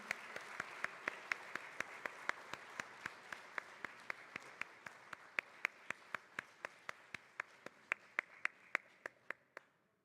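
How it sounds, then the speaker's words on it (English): Steady applause from a conference audience in a main hall, a dense even patter of many hands with sharp repeated clicks over it, holding at moderate level for about ten seconds before stopping abruptly. "please give a big round of applause to Priest Modi Seihan."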